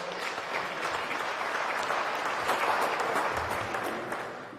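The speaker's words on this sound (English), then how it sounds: "Just the applause alone." Loud, steady audience applause for a show dog at a UKC Tournament of Champions cast call-out, filling the whole stretch as a dense wash of clapping with a slight swell midway and easing toward the end.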